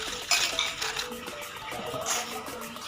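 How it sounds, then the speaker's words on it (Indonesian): A spoon stirring a tablespoon of sugar into distilled water in a container, with bright repeated clinks and scraping against the sides, close and clear, with no talk. "1 sendok makan gula pasir, lalu kita aduk agar"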